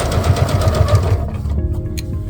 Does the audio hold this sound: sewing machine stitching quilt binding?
yes